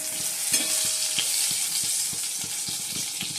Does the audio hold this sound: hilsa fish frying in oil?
yes